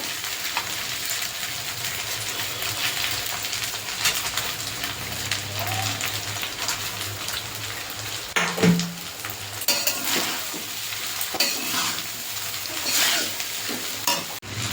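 Rice and vegetables stir-fried in a pan: a steady sizzle with scraping stirs and occasional clatter of the spatula against the pan, continuous and close, with no talking.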